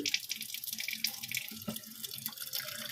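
Tap water pours steadily from a faucet into a cooking pot, a soft continuous splashing trickle, close by and fairly quiet, with no talking.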